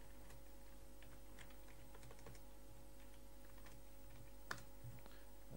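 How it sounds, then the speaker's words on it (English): Quiet, sparse keystrokes tap on a computer keyboard while jQuery code is typed, a faint irregular clicking over a low steady hum, with one sharper key hit near the end and no talking. "So let's type document ready"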